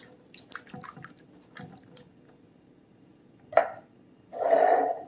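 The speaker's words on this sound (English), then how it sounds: "You're going to put in a can of drained black beans." A can of drained black beans tipped into a chicken burrito skillet, soft wet plops and squishy drips, then one short splat and a louder, longer wet slide of beans near the end, with no voices.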